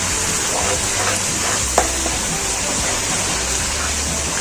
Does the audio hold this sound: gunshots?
no